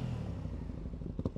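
A motorcycle engine growls in a brief, close, low rumble with a rough, pulsing texture and a couple of slightly louder bursts near the end.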